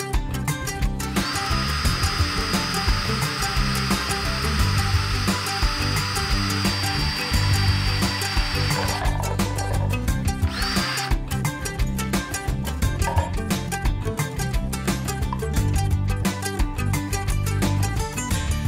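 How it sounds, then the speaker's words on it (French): Power drill boring a hole in a chicken waterer to fit automatic nipples, a loud steady whine that holds for several seconds, then fades into scattered knocks and handling noise. "Fait qu'il faut percer un trou ici."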